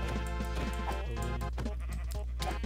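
A sheep in the Minecraft video game bleats in a wavering, nasal cry, heard clearly over a steady low hum with several short repeated calls.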